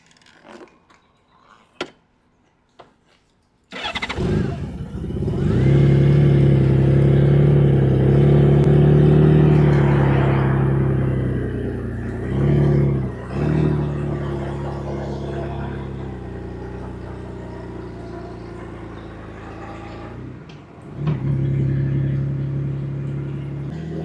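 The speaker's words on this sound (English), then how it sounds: "Goldwings aren't supposed to sound like this, but it's got a lovely sort of grunt to it now." A Honda Goldwing motorcycle with a drilled-out exhaust grunts and rumbles loudly and close up after a brief quiet start, holding a steady throaty drone with a couple of short dips before it picks up again near the end.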